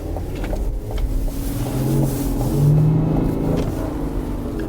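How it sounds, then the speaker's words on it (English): A diesel SUV engine accelerating on a wet, rainy road, a low steady rumble with tonal drone that swells gradually toward the middle, heard from inside the cabin with tyre and road noise underneath. "I will step on the gas a little bit to show you the amount of torque that"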